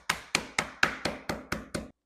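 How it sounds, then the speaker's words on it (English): Eight sharp, evenly spaced thuds of a meat mallet pounding pork tenderloin thin under plastic wrap on a board, close and steady at about four blows per second with no talking. "I'm going to hammer this out really thin"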